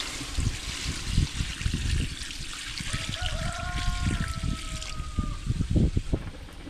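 Water pours and splashes steadily into a cooking pot up close while making pork leg balbacua, a continuous trickling gush with clattering bumps throughout.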